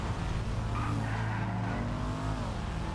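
A car pulls away at a meet in Grand Theft Auto V, its engine droning low and steady with a brief tire squeal as it gets moving, loud and close throughout.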